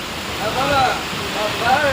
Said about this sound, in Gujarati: અત્યારે જે વરસાદ શરૂ થયો છે